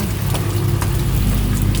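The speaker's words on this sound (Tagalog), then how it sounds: "Lakas ng ulan kasi dito sa amin ngayon dito." Heavy overnight rain pours steadily at a home where water has begun coming inside, a dense continuous wash with a low rumbling undertone and no pauses, close and loud throughout.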